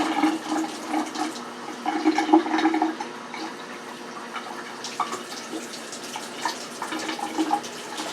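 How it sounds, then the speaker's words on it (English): Tap water runs and pours into a measuring cup while rice is prepared for cooking, a steady close splashing stream with a few brief pauses, and no talking. "you need 2 cups of this same cup of water"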